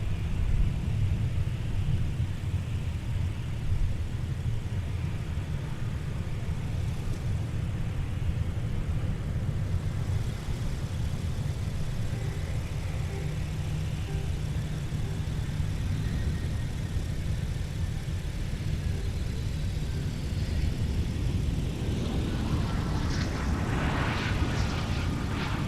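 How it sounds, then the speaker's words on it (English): A Boeing 757-300 comes in to land at Minneapolis–Saint Paul airport, its engines a steady, broad rumble heard from a distance across the airfield throughout, with a light hiss and wind noise over it and no voices. "We got another 757-300 on the way in"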